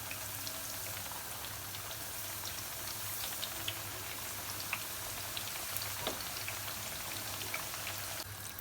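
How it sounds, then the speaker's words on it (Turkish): Eggplant sizzles in hot oil for a Turkish mixed vegetable fry, a soft, steady crackle with scattered pops and spits, fairly quiet and without talk. "Şimdi patlıcanlarımızı kızartmaya, kızartmaya başlıyoruz."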